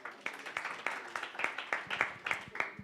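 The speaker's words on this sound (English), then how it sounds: "So a round of applause for them." An audience at a Nairobi conference claps for the public address crew, a short burst of moderately loud applause with distinct individual claps, fairly sparse and near, with a little talk mixed in.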